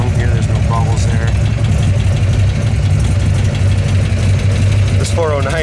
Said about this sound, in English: This 409 wants to get going here. It's been idling for about 7-8 minutes